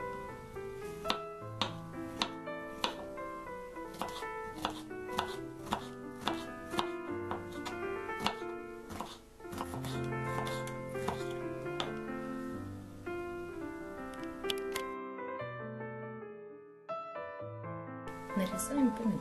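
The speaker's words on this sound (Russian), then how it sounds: "Нарезаем перец, также соломочкой." A knife cuts bell pepper into thin strips on a board, a quick run of close, crisp chops under music, pausing briefly now and then.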